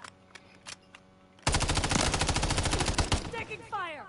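Heavy automatic gunfire in the Call of Duty MW3 video game, a sustained rapid burst of close, loud rifle shots that breaks in after a short quiet stretch filled with scattered clicks, then tails off into ricochets and debris.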